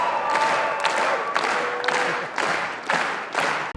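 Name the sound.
audience applause at Cannes film screening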